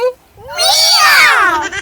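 A person imitates a cat's meow: one drawn-out, rising-then-falling wail, loud and close, after a short spoken syllable.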